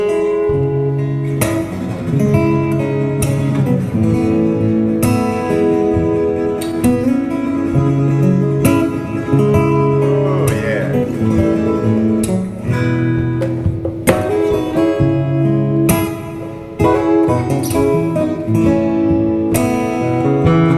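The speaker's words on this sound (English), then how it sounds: "see him come up the neck and tap on it there, and then come back to the box and tap it" Acoustic guitar music played with a percussive style, the player tapping the neck and body of the box for a drum-like rhythm while a second guitarist plays busier parts; the sound is full, steady and continuous, with no talking.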